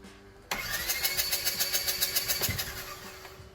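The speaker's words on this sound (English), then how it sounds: "my Polaris Razor 1000 won't start" A Polaris RZR 1000 engine cranking over without catching, a steady rapid chugging of the starter that begins abruptly and continues evenly for about three seconds, close and fairly loud.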